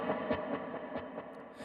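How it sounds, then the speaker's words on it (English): Electric guitar played through a Line 6 Helix with normal delay and reverb, a few picked notes ringing with echoing repeats and a smooth reverb tail, heard alone and fairly close. "This is normal delay and normal verb."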